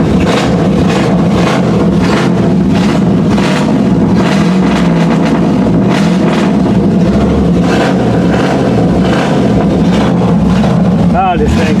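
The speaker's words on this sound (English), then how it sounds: "Hopefully this thing will fire up without starting fluid." A 1979 Chevy K20 truck engine runs loud and rough just after a cold start without its choke hooked up, a close, throbbing, uneven rumble that fills the whole stretch.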